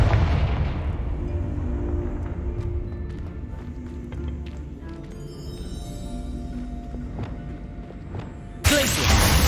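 Confringo blasting spells exploding in Hogwarts Legacy: a heavy boom opens and decays into a long rumbling tail, followed by scattered lighter bursts and mechanical clatter, then a sudden loud burst at the very end.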